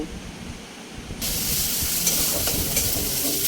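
Ground spices and salt sauté in hot oil for a tangra fish curry in a steady, loud sizzle and hiss that jumps in intensity about a second in, with faint stirring under it.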